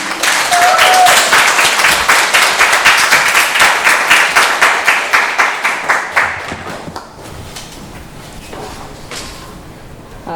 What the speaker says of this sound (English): So please clap her to the stage.